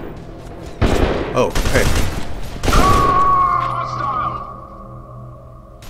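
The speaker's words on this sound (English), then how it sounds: "Guy was sitting there right there shooting at me" An enemy shooting in the video game F.E.A.R. 2, bursts of loud gunfire in two clusters followed by a lingering ringing tone, with a brief spoken exclamation over it.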